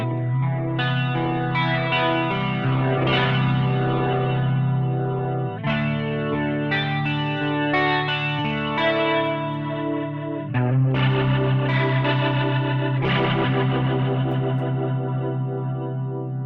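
A driven electric organ through a Strymon Lex rotary speaker pedal with preamp drive turned up, chords throbbing and warbling continuously with a gritty, overdriven edge.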